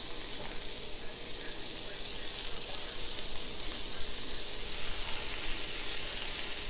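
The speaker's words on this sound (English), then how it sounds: "Yeah, there's that sizzle." Onions sizzle steadily in melted butter in a frying pan, a continuous close hiss with no talk over it.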